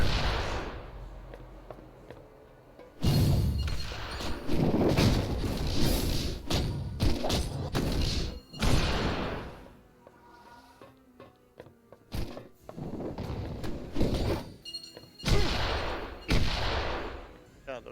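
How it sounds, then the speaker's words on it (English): Bombs going off in a Marvel video game, a rapid series of heavy booming thuds and bursts with brief lulls between, mixed with game action and occasional voices talking. "those are bombs"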